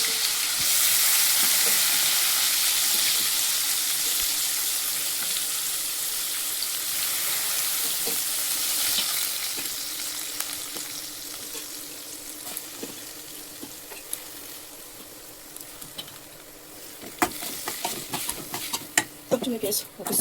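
Cumin seeds and asafoetida sizzle steadily in hot oil in a home kitchen pan, a dense broadband frying hiss that gradually settles, with stirring clinks and scrapes toward the end.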